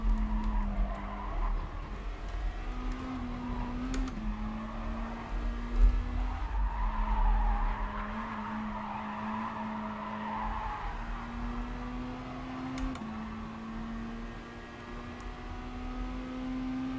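Race car tires skid and squeal under maximum braking in Gran Turismo Sport, a steady engine drone and strained tire noise running loud and continuous for the whole stretch.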